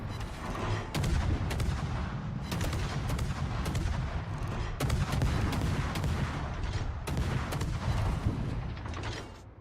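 Warship guns fire repeated booming salvos at irregular intervals in World of Warships, each blast cutting sharply through a constant low battle rumble, with no voices over them.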